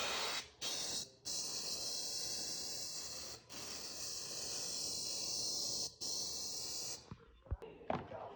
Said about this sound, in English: Of course, you're going to want to spray the front of this.